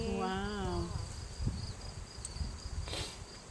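Honey bees buzz at a hive in a thin, continuous insect drone, with a few brief higher whines and faint rustles mixed in at moderate distance.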